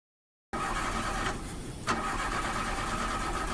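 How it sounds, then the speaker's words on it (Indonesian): Car engine cranking but failing to start, a steady whirring starter motor churning after a moment of silence, briefly dipping and catching again without firing up, fairly close, no voices. "saat di starter, mesin mobil tidak mau menyala"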